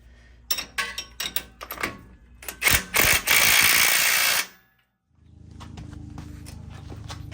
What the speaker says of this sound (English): We go ahead and tighten this stuff down